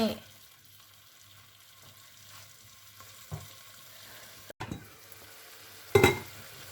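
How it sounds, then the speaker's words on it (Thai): Pork stir-frying in a pan with coconut milk for a spicy bamboo shoot curry with pork belly, a faint low sizzle under occasional stirring scrapes, with a louder clatter of the utensil near the end. "ผัดไปเรื่อย ๆ ให้หมูสุกนิดหน่อย ต้องค่อยๆหมั่นคนนะ"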